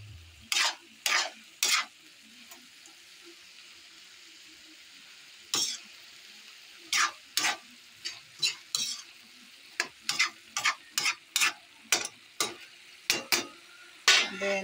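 Adobong sitaw (string beans) cooking in a pan, stirred in quick bursts of loud scraping and clattering against a low background sizzle, close and irregular, with no talking.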